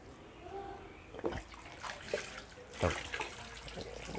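Water splashing as a pit bull bully dog plays in it, with irregular slaps and sloshes rising in a few louder bursts over a steady watery wash, fairly close.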